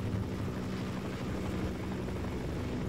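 Helicopter flying over the area in a Minecraft hardcore survival game, a steady loud rotor drone with low thudding beats that holds throughout without any voices.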